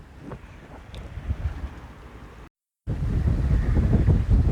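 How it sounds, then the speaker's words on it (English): Wind gusts across a sailboat moving under mainsail, about 5.5 knots, roaring steadily close to the microphone with water rushing beneath, broken by a short silent gap before the buffeting returns louder. "Got a lovely bit of wind now."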